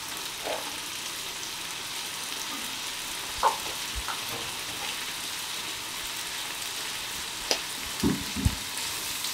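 Onions sizzle gently in a pan at the start of a zucchini soup, a soft continuous frying hiss with a few scattered clicks and light knocks near the end, no voices.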